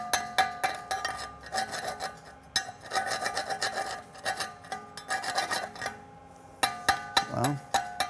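Slag being chipped and scraped off a 7018 weld bead on half-inch plate with a backing strip, a run of close metallic scratching, rasping and clinking strokes in irregular bursts.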